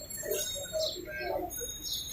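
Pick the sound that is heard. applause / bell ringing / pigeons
pigeons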